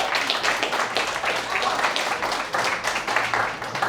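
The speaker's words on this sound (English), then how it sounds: "let's give him a round of applause" Applause from a conference audience for a young student, a dense patter of many hands clapping steadily throughout at moderate loudness.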